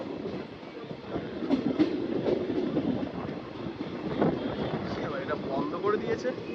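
The 13422 Malda Nabadwip Dham Express runs along the rails with a steady rumble and faint clickety-clack. Wind buffets the microphone, and a voice talks over part of it.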